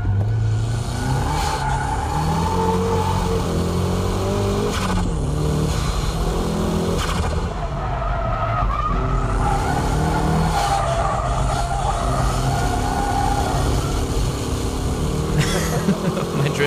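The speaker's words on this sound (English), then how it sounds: "My drifting is a bit wild, isn't it?" A car being drifted on a track: a loud, close engine revs hard and rises and falls through gear changes, while tires squeal and skid through long slides.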